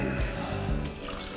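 Water, about 200 millilitres, pours into a Thermomix bowl holding tomato sauce ingredients with balsamic vinegar, a brief continuous splashing trickle close by.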